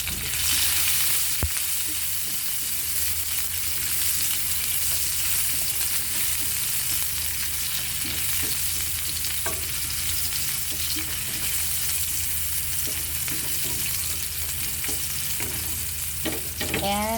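Lots of garlic frying in a pan for buttered blue marlin or chicken adobo, a steady loud sizzle running throughout with occasional stirring clicks and scrapes, no voices.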